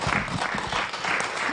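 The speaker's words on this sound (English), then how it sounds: "A better round of applause to him." Summit audience applauding, a dense steady patter of many hands clapping together throughout, fairly loud and close.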